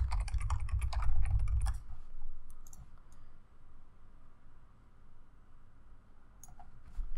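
A channel name being typed on a computer keyboard during a graphic design tutorial: a quick burst of close key clicks, then near quiet with a faint hum, a few more clicks near the end.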